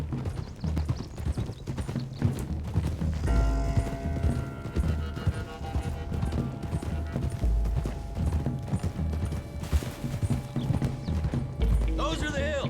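Horses gallop with steady clip-clop hoofbeats in Red Dead Redemption 2, with a whinny rising among them. A voice talks over the continuous rhythmic pounding throughout.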